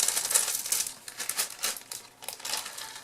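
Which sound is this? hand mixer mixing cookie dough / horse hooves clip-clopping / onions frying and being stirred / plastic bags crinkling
plastic bags crinkling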